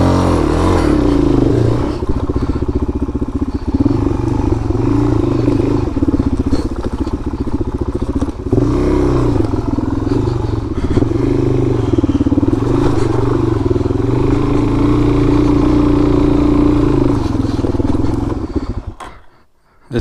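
Two dirt bikes, a KTM 300 and a DRZ400, ride along trails, their engines droning steadily and loud up close with rising and falling revs and clattering, before cutting out abruptly near the end.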